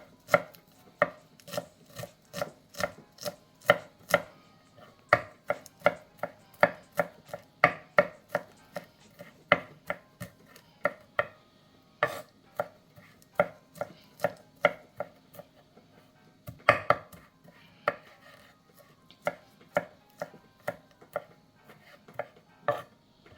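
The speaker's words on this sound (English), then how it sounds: "I cut it very, very, very, very chop it very, very, very fine." A knife chops French thyme and scallion very finely on a board, a long run of quick, crisp, close taps in rapid bursts with brief pauses, and no talking.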